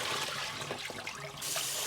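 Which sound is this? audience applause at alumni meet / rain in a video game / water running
water running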